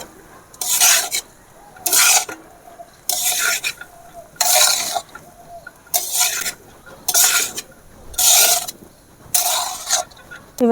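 Garam masala powder being stirred into chicken kosha in a kadai, a regular rhythm of about eight bright scraping strokes with a spatula, each followed by a brief lull over a faint sizzle.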